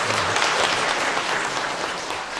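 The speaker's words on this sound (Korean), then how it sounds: "우리 박수로 한번 환영하겠습니다." A church congregation applauds during a Sunday service to welcome visiting family members, a steady, fairly loud wash of many hands clapping together that carries on evenly for a couple of seconds.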